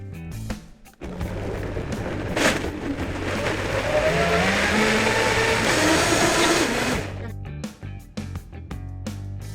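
An electric blender purees pineapple, frozen berries and fat-free yogurt in a loud steady whir that lasts several seconds, with a short start-up clatter before it and a rattling spin-down after.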